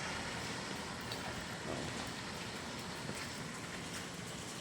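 Steady rain hisses evenly and softly, a constant wash of drops with no voices.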